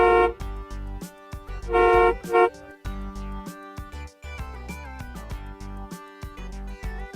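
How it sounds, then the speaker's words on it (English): A car horn gives two short honks near the start, loud and brassy, over cheerful background music that continues after the honks end. "Car."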